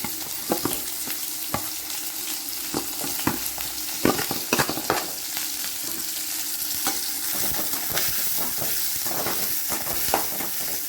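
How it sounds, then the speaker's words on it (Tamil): Onion and chili sizzle in hot oil, a busy close crackle with sharp spattering pops and the scrape of stirring, continuous and without talk. "இப்போ நான் கொஞ்சம் ஆயில் போட்டுக்கிட்டேன் ஆயில் காஞ்சிருச்சு இப்போ வெங்காயத்தை போட்டுக்கேன் மிளகாவும் போட்டுக்கலாம்"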